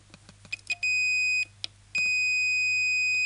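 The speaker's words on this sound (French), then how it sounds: "Donc on entend bien le bip" A multimeter's continuity tester beeps several times while probing an old 1954 Dehay RD28CA valve radio: quick short chirps, then two long steady high-pitched tones with a brief pause between, loud and close.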